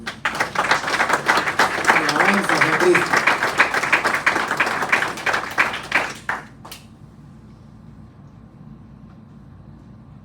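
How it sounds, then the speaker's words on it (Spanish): A church congregation at an anniversary service breaks into loud applause, with voices calling out over the clapping, then it stops abruptly after about six seconds and leaves a quiet room. "Dale un aplauso a Dios."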